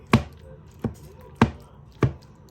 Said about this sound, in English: Right now we just have to chop it.